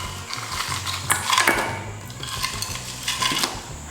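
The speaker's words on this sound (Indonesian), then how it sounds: "ini langsung gue masukin dulu es batunya." Ice cubes clink and rattle into a bowl of flour batter for fried battered shrimp, a dense run of small hard knocks and tinkles up close, with a brief louder cluster in the middle.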